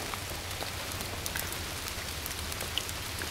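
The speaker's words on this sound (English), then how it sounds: "Raining, of course." Steady rain falls on a creek, a soft even hiss scattered with faint individual drop taps throughout, with no voices.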